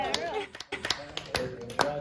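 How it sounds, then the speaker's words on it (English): Sparse audience clapping mixed with a speaking voice, scattered individual claps rather than a full ovation, fairly close and moderately loud. "Keep clapping, keep clapping."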